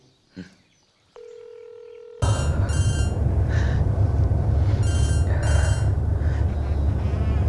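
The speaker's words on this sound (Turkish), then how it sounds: "Çalıyor." A telephone call connects with a short dial tone, then a steady ringback tone repeats under a loud constant hiss and background noise, with no one speaking.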